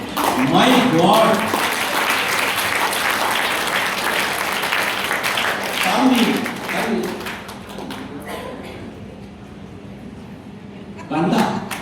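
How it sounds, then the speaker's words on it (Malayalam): An audience at a business meeting breaks into loud, sustained applause, a dense wash of many hands clapping together that fades slightly midway before another burst near the end; a voice talks over it at times. "സാറിന്റെ പ്രവർത്തനം കറക്റ്റ് ആണെങ്കിൽ കൈയടിക്കണം"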